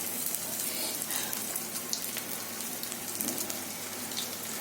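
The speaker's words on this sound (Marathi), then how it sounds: "हे बघा याच्यामध्ये आहे तसे टाकून हे शालो फ्राय करायचे तेलात तळायचे नाही" Vegetable cutlets shallow-frying in a little hot oil, giving a steady, dense crackling hiss that stays even and close throughout with no other sound.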